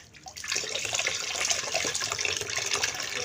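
Water poured in a steady, close splashing stream that continues without a break for a few seconds, with no voices.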